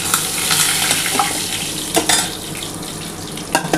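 Snakehead fish pieces fry lightly in oil, giving a steady, fairly loud sizzle with occasional sharp clinks and scrapes of a utensil against the pan.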